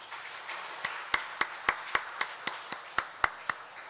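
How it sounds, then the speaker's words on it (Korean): A congregation at a Korean Sunday church service claps in encouragement: about a dozen crisp, evenly spaced claps in steady unison rhythm, moderately soft, with no talk over them. "격려의 박수"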